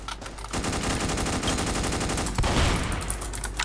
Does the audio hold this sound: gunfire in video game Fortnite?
yes